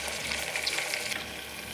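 Onion and a medium tomato with a little salt fry in a pan, making a steady close hiss and crackle of oil that continues unbroken, with no voices.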